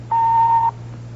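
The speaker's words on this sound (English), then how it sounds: "Now, just wait for that beep" A single steady electronic tone from an answering machine, held for about half a second, loud and clear over a low constant hum, with no voices.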